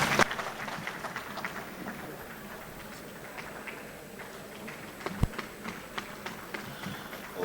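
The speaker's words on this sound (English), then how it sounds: "His Excellency deserves a better round of applause, please" Applause from the audience at a memorial event for Chief E.K. Clark, a sparse, thin patter of clapping that carries steadily through a large room, fairly soft and distant, with a few louder isolated claps.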